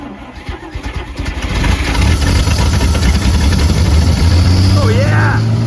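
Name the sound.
1950 Chrysler Traveler engine starting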